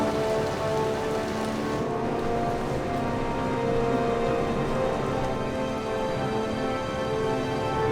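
Heavy rain pours steadily in the Himalayas near the Karakoram highway, a dense, continuous wash of drops hitting surfaces, with no voices.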